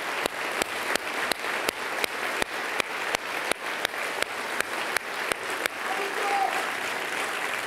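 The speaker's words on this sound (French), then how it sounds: "Donc je voudrais qu'on fasse un tonnerre d'applaudissements à toutes les équipes qui organisent cette soirée et toute la campagne." An audience at a campaign launch evening at the Trianon applauds with sustained clapping, broken by a regular series of sharp rhythmic claps that give way to looser, fuller applause near the end.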